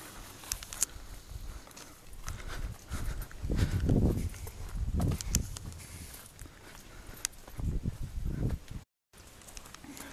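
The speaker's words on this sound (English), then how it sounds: "I hear the horses are coming back" Horses approach along a trail near a river and a large metal trestle bridge, their hooves clip-clopping in uneven bursts over a rumbling outdoor background, moderately close, with no talking.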